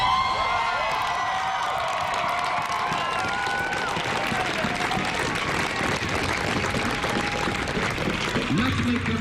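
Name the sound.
protest crowd chanting and cheering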